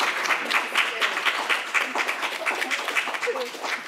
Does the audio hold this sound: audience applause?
yes